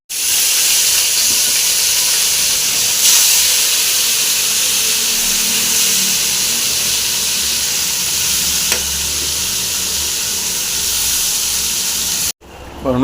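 Loud, continuous sizzling as ground pirandai paste hits a hot tempering of cumin and curry leaves, a steady close hiss that runs for a long stretch and then cuts off abruptly.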